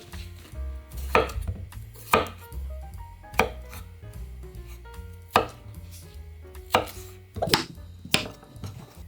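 Knife chopping cucumber on a cutting board, cut in half in quick single strokes for cucumber kimchi; several sharp, close thuds land irregularly over a faint background with no talking.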